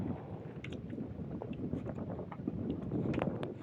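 Steady south wind rushes and buffets across the microphone outdoors at a fish corral, with faint water or boat sounds underneath and no talking.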